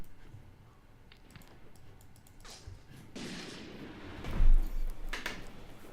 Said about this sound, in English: I didn't realize Kutter had a machine gun.